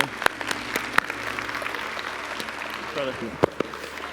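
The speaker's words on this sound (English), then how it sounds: "Would you give them a round of applause?" Applause from a church congregation for volunteers, moderate clapping from a gathered crowd with a few sharper claps standing out nearby and a voice speaking over it.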